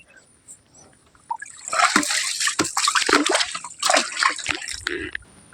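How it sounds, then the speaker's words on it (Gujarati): A bucket is filled with water in a village, the stream splashing and gurgling loudly up close after a quieter start and swelling in bursts, while voices talk alongside. "બેઠા બેઠા ભાઈ પાણીની ડોલ ભરીએ"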